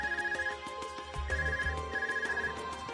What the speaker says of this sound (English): That's your Arcus ringing?